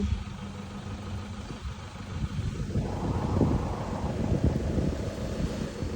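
Cool wind blowing across a microphone beside a tree-lined roadside with flowers, a steady low rumbling gust that swells louder halfway through and keeps buffeting.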